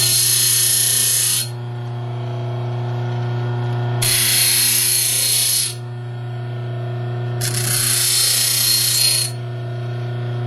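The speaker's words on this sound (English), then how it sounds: "to make a simple hook, we can keep it all in the grinder" Bench grinder shaping a metal lockpick hook: three loud, bright grinding bursts of about one and a half seconds each, separated by the steady hum of the running motor, with no speech.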